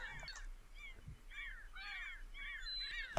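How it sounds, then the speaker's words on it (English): A big bird in the VERT survival game caws repeatedly, harsh crow-like calls in uneven bursts, fairly close over a quiet ambient background with no talk. "It's a, it's a, bird, big bird."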